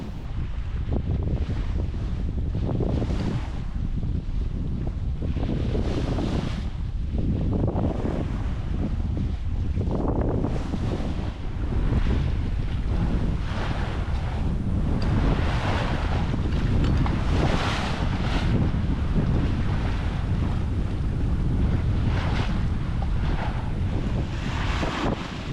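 A heavy 20,000-pound sailboat pushes through choppy seas, loud steady wind roaring across the microphone as waves crash and hiss against the hull in repeated surges.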